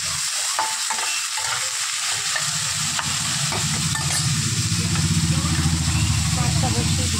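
Bitter gourd, pumpkin, pointed gourd and onion frying in a pan, a steady loud sizzle with stirring scrapes throughout, close up, with a voice speaking over it.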